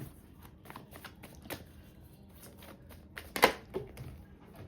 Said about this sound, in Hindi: now let me shuffle the cards for you